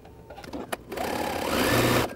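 A sewing machine, fresh out of the box, stitching fabric: after a few faint clicks, a steady mechanical whir builds and runs for just over a second, close and fairly quiet, with no talking.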